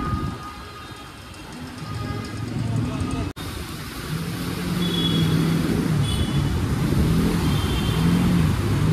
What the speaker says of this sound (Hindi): फुल टू एक्सीलेटर दे के चला रहे हैं।